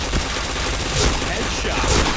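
Rapid gunfire from the online shooter game Point Blank, a dense continuous volley of shots with heavy low booms, steady and loud throughout.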